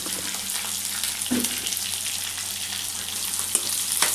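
Chopped onion, green chillies, curry leaves, chana dal and urad dal frying in oil for upma, giving a close, continuous hiss and crackle with a couple of sharper clinks or stirs near the end.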